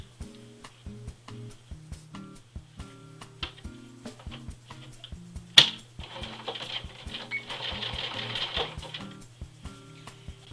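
A sewing machine stitches down a ripped curtain hem with the lining sandwiched in, ticking in short rhythmic clicks over a low motor hum before a longer, louder continuous whirring run near the end.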